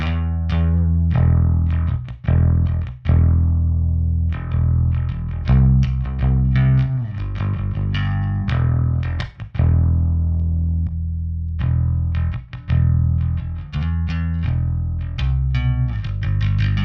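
Bass guitar through a JPTR FX Double Jive distortion pedal set to subtle gain, playing a funky riff of plucked notes and slides, mildly fuzzy and growling with brief gaps between phrases.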